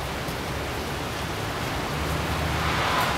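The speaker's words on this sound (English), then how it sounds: "think it's raining too hard for that shot" Heavy rain falls outdoors in a hilly setting, a dense, constant wash of noise that stays loud and even throughout, with no voices.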